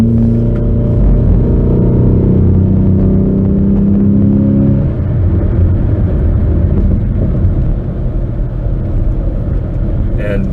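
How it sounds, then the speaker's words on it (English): Honda Accord fitted with a K&N Typhoon cold air intake pulls hard under acceleration, a loud steady engine drone with rising intake roar and dense low rumble filling the whole stretch, no voices over it. "here are a couple of sample video clips of the K&N intake sound"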